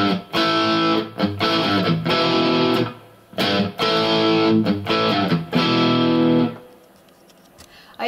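The rhythm part of a song is played on a distorted electric guitar through the GTRS app, heard as punchy stop-start chord stabs in two repeated phrases ending on a sustained chord that fades out, with nobody talking.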